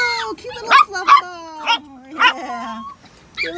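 Several excited dogs preparing to travel bark and yip in short bursts close by, with whimpering, high-pitched tones between the barks and a voice speaking alongside.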